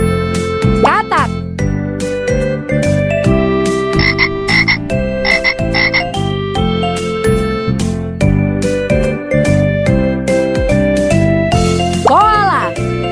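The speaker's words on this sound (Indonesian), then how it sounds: "Katak." A forest frog croaks in loud, close, repeated bursts over a bright, chiming musical backing with tinkling bell tones, the croaks pulsing rhythmically throughout.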